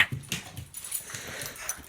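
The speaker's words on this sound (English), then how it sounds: "this is how nuts my mom's dog's being" A hyper dog after eating maple syrup, making short excited whimpering and snuffling sounds with scuffling movement, close and fairly loud.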